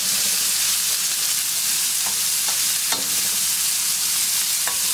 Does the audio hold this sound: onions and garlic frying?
yes